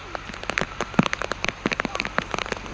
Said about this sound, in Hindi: बहुत अच्छी सी बारिश हो रही है